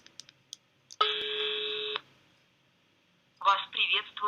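A telephone ringback tone sounds over a speakerphone while a call is placed to a voicemail service: one long steady electronic tone lasting about a second, loud and alone, followed by a short silence and then a voice beginning to speak.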